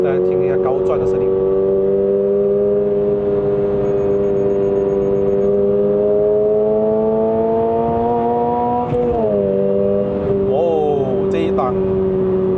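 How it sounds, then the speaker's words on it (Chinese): A Toyota GR86 with a six-speed manual, in track mode, revs hard at high RPM, its engine note climbing steadily for several seconds and then dropping sharply at a gear change before rising again, loud and close inside the cabin. "大家听一下高转的声音"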